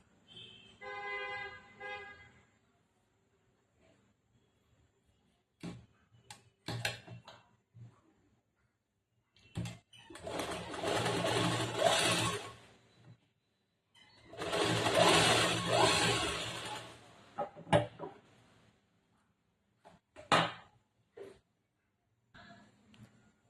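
A sewing machine stitches a petticoat seam in short runs, with rattling bursts broken by quiet pauses and small handling clicks between passes.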